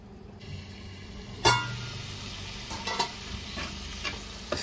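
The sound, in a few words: spice paste (masala) being sautéed in a covered pan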